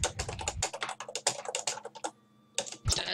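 Rapid clattering keystrokes on a computer keyboard, close and fairly loud, come in a dense burst, pause briefly, then resume for a short final flurry.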